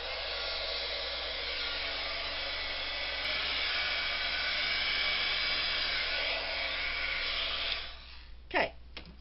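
A heat gun blows steadily while melting embossing powder, a loud continuous whooshing hum that holds for several seconds before cutting off, followed by a couple of brief handling noises.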